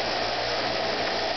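An electric grinder runs steadily against a steel hatchet head, taking off rust with a constant, loud, close whine and abrasive hiss throughout a short stretch.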